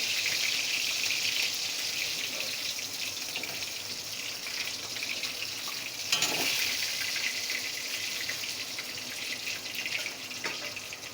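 Fish frying in hot oil in a home kitchen, a steady soft sizzle and crackle that continues throughout at low level, with one brief louder stir or clatter partway through and no voices.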